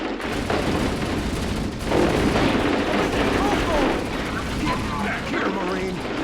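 Marines fire weapons in a video game, a dense, loud, continuous barrage of gunfire and rattling bursts, with voices talking over the shooting.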